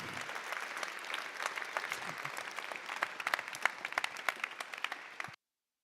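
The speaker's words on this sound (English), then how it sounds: "a big round of applause for everyone who contributed to this event" A crowd applauds at the close of the Energy Data Hackdays 2024 pitches event, a steady wash of many hands clapping with sharper individual claps near the end before it cuts off abruptly.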